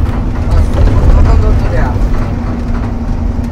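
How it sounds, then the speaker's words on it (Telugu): A lorry loaded with husk, about double a tractor's width, rumbles past on the road as a steady low engine drone, loudest early and easing off, while voices talk over it. "పొట్టు లారీ."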